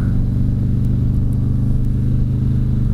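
Steady, loud engine drone of a vehicle on the ride home from work, a continuous low rumble with no change in pace throughout and no voices over it.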